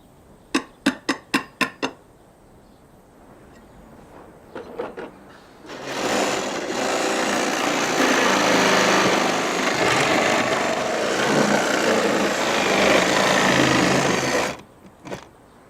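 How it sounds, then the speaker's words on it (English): A sabre saw cuts through nails tucked beneath weatherboards, making a loud, sustained rasping buzz for several seconds that stops abruptly, after a short burst of sharp knocks at the start. "It's only enough just to get the blade of our sabre saw underneath so we can cut the nails."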